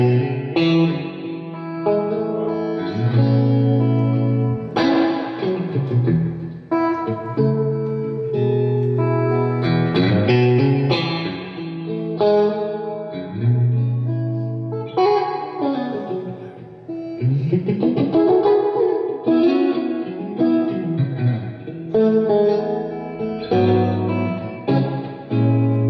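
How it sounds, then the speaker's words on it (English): An electric guitar is played through a Victory Deputy amp with the reverb turned all the way up, with sustained, washy chords and notes ringing on in a continuous flow, with no talking. "the reverb, if you put it all the way up, which is the cool part of this"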